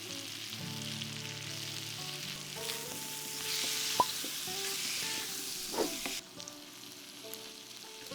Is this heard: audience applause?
no